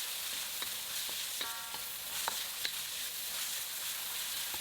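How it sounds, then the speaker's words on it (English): Ground pork stir-frying in avocado oil in a wok over high heat, a steady close sizzle with a few sharp clinks and scrapes of a utensil against the pan. "In a wok over high heat, place in the avocado oil or other oil of your choice."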